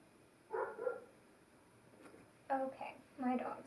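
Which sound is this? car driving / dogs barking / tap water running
dogs barking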